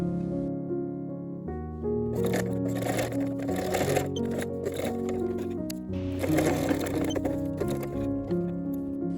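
A sewing machine stitching the front and back pieces of a child's coat together at the shoulders, the coat being remade from an old adult skirt: a continuous close mechanical whir with patter under steady background music.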